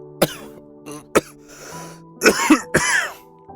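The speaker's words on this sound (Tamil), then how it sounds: "இதற்கிடையில் அவன் இருமினான்." A man coughs several times in short, harsh bursts with pauses between, close and fairly loud over a quiet background hum.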